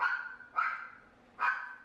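A dog barks three times outdoors, each a single mid-pitched woof spaced about a second apart, moderately distant and fairly clear against a quiet background.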